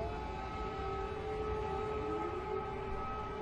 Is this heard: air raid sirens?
yes